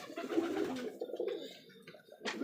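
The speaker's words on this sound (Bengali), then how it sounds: "একদম জেড ব্ল্যাক টাইগার নটটা ডাকতেছে দেখেন" A jet black tiger Rajshahi Giribaz pigeon at a pigeon farm coos close by in a few deep, rolling bursts with short pauses, clear and alone.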